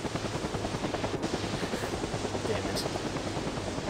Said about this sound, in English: you're having some difficulties flying this helicopter